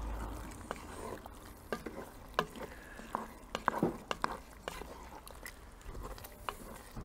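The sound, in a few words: stirring minced meat stew with cream in Dutch oven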